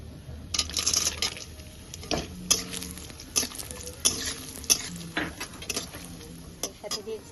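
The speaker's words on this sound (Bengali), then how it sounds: "এর মধ্যে আমি দিয়ে দিচ্ছি আমি যে কাজু আর কিশমিশ রেখেছিলাম সেগুলো।" Cashews and raisins fry in a pan with cardamom, a cinnamon stick and cloves, a steady sizzle broken by repeated scraping stirs and light clinks of a spoon against the pan.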